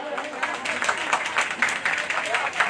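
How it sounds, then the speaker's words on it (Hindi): A crowd applauds at the inauguration of a paramedical and vocational training institute. The clapping is steady and moderately loud, with dense, even claps throughout. "जोरदार तालियां"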